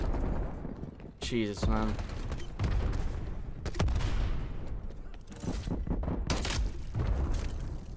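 Melano rifle fire in a shooter video game: loud bursts of rapid shots and booming impacts, broken by short gaps, with a voice exclaiming over the gunfire.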